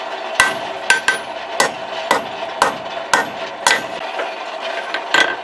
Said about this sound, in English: Let's start forging.